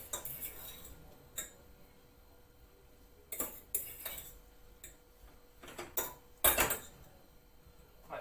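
Cutlery clinks and scrapes against a pot while brown stew pork belly is stirred, a series of sharp metallic taps and knocks spaced irregularly, with one louder clatter near the end, over a quiet kitchen background.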